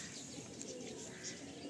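Malwai pigeons from Punjab make soft, low cooing under steady background noise, with faint chirps and no voices.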